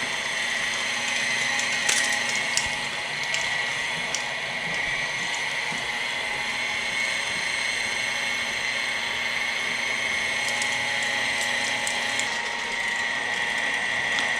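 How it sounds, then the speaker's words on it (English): A meat grinder churns meat for hamburgers with a steady, close mechanical whir and grinding rattle that stays even throughout, with a few sharp clicks and no talking. "this is all there is to grinding meat"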